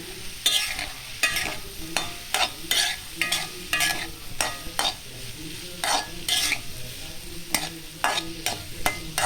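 Paneer curry masala is stirred and sautéed in a pan, with a steady run of close, distinct spatula strokes and scrapes over a soft frying sizzle. There is no talking.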